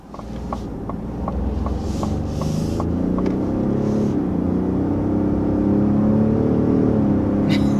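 A 2021 Ford F-150 Platinum PowerBoost hybrid pickup accelerates from inside the cab, its engine rising into a loud, building drone over a few clicks, growing steadily louder to the end.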